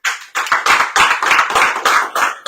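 Close hand clapping on a radio show, a handful of people beating out distinct, loud claps in an uneven rhythm, each burst sharp and separated by brief gaps.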